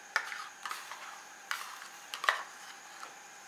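Whisk working through milk, flour, butter and cream sauce in a saucepan, with light, irregular clinks and scrapes of metal against the pan at an unhurried pace, close and quiet, no talking.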